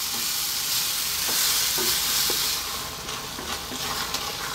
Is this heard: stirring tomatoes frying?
yes